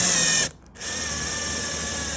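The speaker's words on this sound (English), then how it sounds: "I got a tap on the drill here with a little aluminum cutting fluid. So I'm going to cut some new threads" A power drill spins a tap to cut threads in aluminum with cutting fluid, a loud whining motor that stops briefly, then runs steadily again close by.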